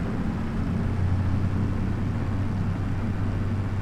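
A small tractor in a farming roleplay game runs at a steady idle-to-cruise drone, a constant low engine hum with no gear changes or pauses throughout.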